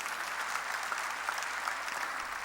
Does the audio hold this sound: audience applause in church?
yes